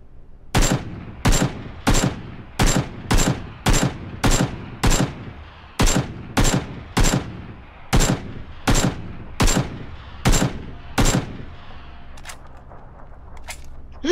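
Repeated bursts of gunfire in PUBG, about a dozen loud, sharp shots spaced roughly evenly over several seconds, close and dominant with no talk.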